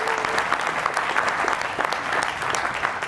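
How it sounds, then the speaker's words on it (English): Wedding guests at a ceremony clap together in a steady burst of applause. It stays continuous and moderately loud throughout, with a faint voice or whistle near the start. "I think they get a round of applause."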